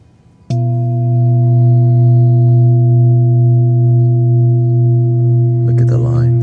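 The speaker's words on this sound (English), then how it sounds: "So the more vintage bowl, they sound like this." A vintage singing bowl, bought secondhand online, rings out after a single strike with a steady, sustained hum layered with bright overtones that holds loud for several seconds; a voice begins talking over it near the end.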